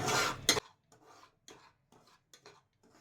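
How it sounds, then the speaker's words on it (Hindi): A cup of semolina roasting in a pan: a loud scraping stir at the start, then a series of soft, quick rasping strokes of a spoon against the pan at a slow, regular pace, fairly close. "1 कप सूजी लिया है। इसको भूनेंगे थोड़ा ब्राउन होने तक, थोड़ी भूनेंगे।"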